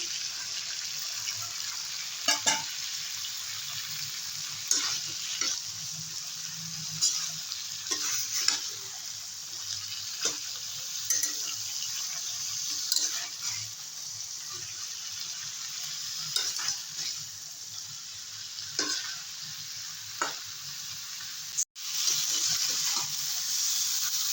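Broccoli being stir-fried in a pan with beans, a steady, moderately loud hiss of frying punctuated by regular scraping clicks of a spatula, with one sharp clatter near the end.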